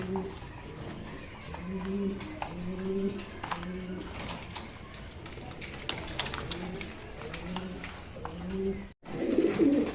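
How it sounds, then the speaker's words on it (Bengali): A pair of Cappuccino fancy pigeons coo in a steady rhythm of low, rolling calls, repeated about a dozen times at close range, while someone talks over them. "এখানে এক জোড়া ক্যাপাচিনো কবুতর আছে দেখতে পাচ্ছেন"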